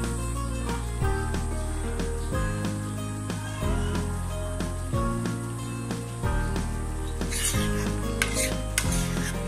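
Beef brain fries in a pan over medium heat, sizzling steadily while a utensil scrapes and stirs against the pan at a regular rhythm.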